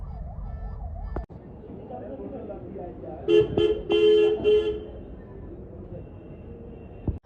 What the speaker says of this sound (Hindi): पीछे एम्बुलेंस लगी है, एम्बुलेंस को साइड देते हैं।